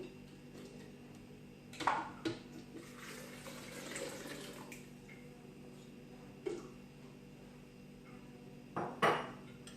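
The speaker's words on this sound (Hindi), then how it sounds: "उसके बाद ये 1 गिलास पानी है, इसे मैं ब्लेंडर में डाल दूंगी।" A glass of water is poured into a blender holding washed falsa berries in a home kitchen. There are a few short splashes and glassy clinks over a quiet background, with no talking.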